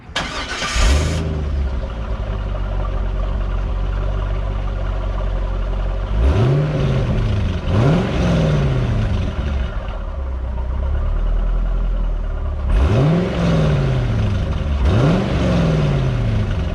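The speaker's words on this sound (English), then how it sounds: "Let's start her up." A 2017 Chevrolet Camaro convertible's engine cranks and catches, then settles into a steady idle. It is punctuated by four sharp revs that climb and fall away, loud and close, with no talking.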